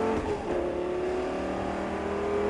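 A Lamborghini Gallardo engine roars at high revs under full-throttle acceleration on a track, a loud steady drone with rising tones, close and continuous throughout.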